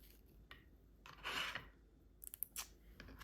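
Knife cutting fruit for a creamy fruit chaat, a single close rasping slice followed by a few small sharp clicks and taps, quiet and without talk.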